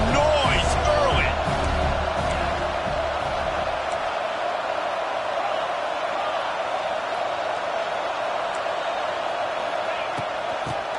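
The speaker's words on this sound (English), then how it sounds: "This crowd bringing the energy and noise early." Stadium crowd roars steadily throughout an NCAA Football 26 video game broadcast, a continuous wash of cheering noise with a louder burst of commentary-like voices in the opening seconds.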